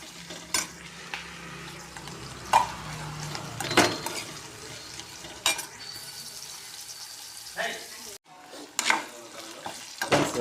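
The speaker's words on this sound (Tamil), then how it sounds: "வெங்காயம் நல்லா வதங்கிட்டு" Onions sautéing in a pan with dried red chillies, a soft continuous sizzle broken by repeated sharp spatula scrapes and stirs against the metal, close by.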